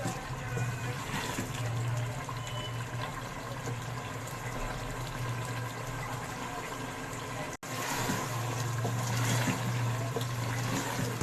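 Water is poured into a pot of fried vegetables while making sabzi polao, giving a steady rushing, splashing pour that runs almost without a break, close and fairly loud.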